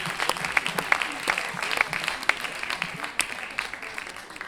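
Sustained applause from an audience at a slam poetry tournament in Lyon: dense, continuous clapping that stays fairly even throughout, with a few sharper individual claps standing out.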